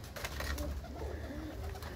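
Domestic pigeons in a loft of a fancier's flock, several birds cooing in low, repeated throaty rolls that overlap continuously at close range, with no talking.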